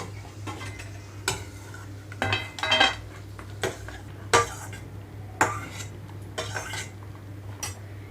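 Fried cashews and raisins scraped from a cooking pan onto a plate, giving a series of close, sharp metallic clinks and scrapes of utensil on pan at irregular intervals, with no talking.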